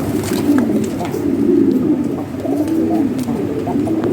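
Pigeons cooing continuously at close range, overlapping low warbling calls with a few faint rustles and clicks underneath.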